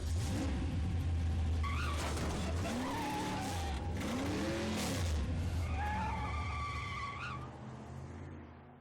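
Car sounds from the video game Left 4 Dead 1 feature squealing, skidding tires with rising and falling screeches over a steady engine rumble, loud and continuous without speech.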